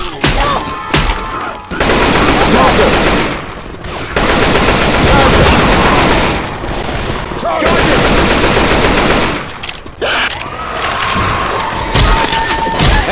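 Rapid automatic gunfire rips through zombies in the Left 4 Dead 2 co-op shooter, dense, loud bursts broken by brief gaps over about thirteen seconds.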